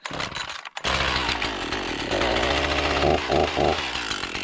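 An Echo chainsaw, a cold-blooded homeowner saw, is pull-started after a brief gap, then runs loud and steady close by, its pitch rising in a few short throttle blips toward the end.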